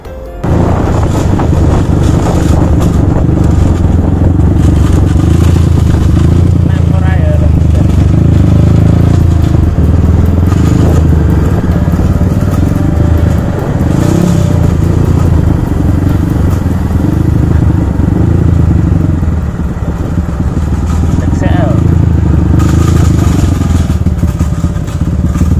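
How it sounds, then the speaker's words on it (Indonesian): A damaged motorcycle engine runs loud and continuously, with a rough rattling clatter and occasional thumps throughout. "kondisi mesin semakin parah. Suara kemerasak semakin terdengar nyaring bunyinya."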